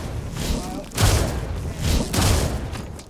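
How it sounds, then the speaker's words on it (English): An enemy explorer in Skyrim shoots at the player: two muffled thumping impacts about a second apart, each with a short burst of noise. Game ambience and a talking voice run underneath. "That explorer's trying to shoot me."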